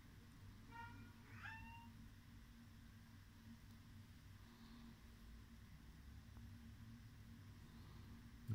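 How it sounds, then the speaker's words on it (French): A small cat meows a few times near the start, faint and brief, over a steady low indoor hum while someone paints a figurine. "Il y a un petit chat qui réclame des câlins."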